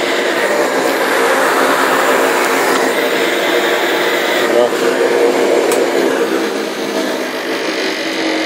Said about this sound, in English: This dust collector is pretty light too, quiet.